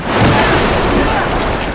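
Loud, steady rushing water from a sea level in the video game Uncharted 3: Drake's Deception, a dense continuous roar with a slight surge near the start and no talk over it.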